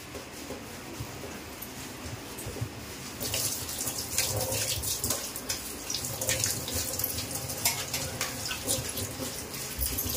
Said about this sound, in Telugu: మనం ఇప్పుడు నీళ్ళల్లో శుభ్రంగా కడుక్కోవాలి